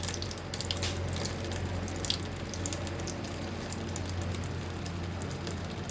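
Tap water runs steadily while a long-haired cat is bathed at a grooming shop, a continuous soft splashing hiss with faint drips and a low background hum, no talking.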